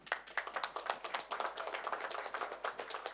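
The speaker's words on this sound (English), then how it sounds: "Let's give him a big applause." Audience applause at a conference in Davos, a dense burst of many hands clapping at once, steady and fairly close, with no talking over it.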